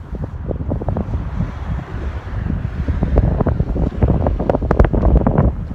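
Wind buffets a handheld microphone at a scenic spot in Tuolumne Meadows, Yosemite, producing loud, uneven low rumbles and gusty thumps that swell and pulse continuously without speech.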